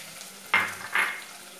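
Squashed ginger and garlic dropped into a hot pan for Kerala fish curry, giving two quick sizzling bursts close by that each fade into a softer hiss.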